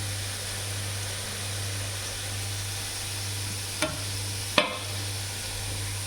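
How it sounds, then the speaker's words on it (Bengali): Chicken pieces frying in a pan give a steady, even sizzle with a low hum underneath, broken by two sharp clicks near the end. No one speaks. "এই যে মুরগি মুরগি ফ্রাই করতে দিছি।"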